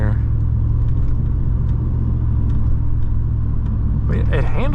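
A 1996 Chevrolet Camaro SS being driven into a corner, its engine a steady, loud low rumble with road noise throughout and a voice speaking near the end.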